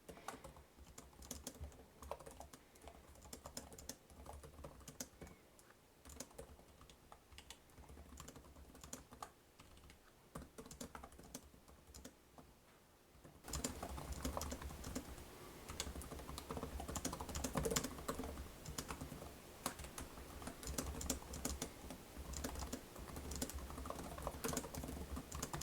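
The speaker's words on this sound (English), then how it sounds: "So let's give it a quick type, though." Continuous fast typing on the keyboard of a 2024 Lenovo ThinkBook 2 in 1 laptop with Intel Core Ultra, a dense stream of close, crisp key clicks that gets louder and busier partway through, with no talking.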